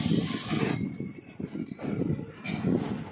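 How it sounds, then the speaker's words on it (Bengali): Passenger train departing and rolling along rails in West Bengal, loud rumbling wheels with rhythmic clatter beneath a sustained high metallic wheel squeal, heard close from on board. "ট্রেন ছাড়লো"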